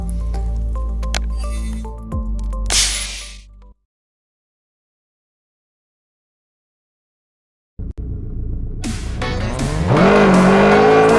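Racing car engine and tire sounds from a realistic-graphics mobile car racing game, loud and close, cut by several seconds of silence in the middle before revving and tire noise return and build steadily.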